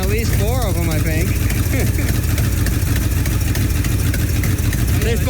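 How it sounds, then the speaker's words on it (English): A 1967 Ford F250 camper special, an abandoned truck, runs roughly on a loud, uneven, close engine that misses on some cylinders, its steady rumble lasting throughout with a voice talking over it. "So you tell me, is this thing running on how many cylinders?"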